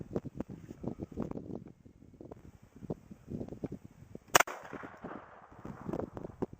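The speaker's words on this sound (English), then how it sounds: "I'm going to take two shots here for you." A single sharp, loud crack from a Cobra .22LR derringer being fired outdoors stands out against faint wind and low rumbling.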